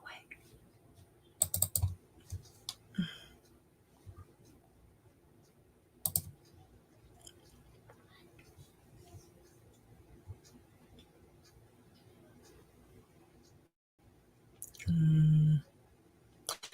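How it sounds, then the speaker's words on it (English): A loud computer mouse gives scattered sharp clicks and keyboard-like clacks, close and sporadic, with quiet gaps between bursts and a brief louder burst of noise near the end. "I still have my loud mouse. Oh, clickety clack."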